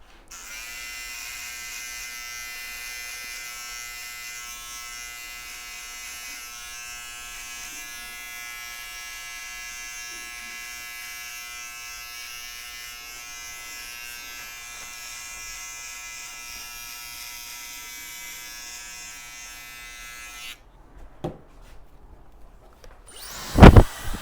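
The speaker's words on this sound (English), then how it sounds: "This is an electric razor." An electric razor used during a barbershop razor-fade haircut gives a steady, loud, close mechanical buzz for about twenty seconds, then cuts off, leaving a few handling bumps and knocks at the end.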